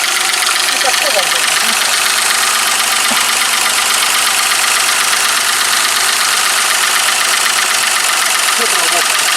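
A Mercedes W126 with the M110 engine idles with a steady knock in the engine, running continuously and fairly loud close by, with people talking over it.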